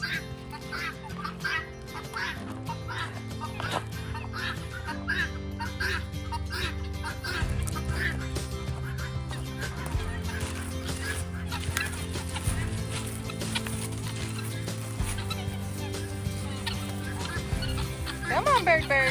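Backyard chickens and other fowl cluck and chatter throughout, mixed under steady background music with a person talking over them.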